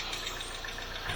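A car engine idles roughly after new ignition coils and spark plugs, a faint, uneven mid-pitched running hum with a slight knock, heard briefly and alone.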